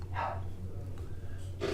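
A dog barks sharply twice, once near the start and again at the end, close and fairly loud over a steady low background hum.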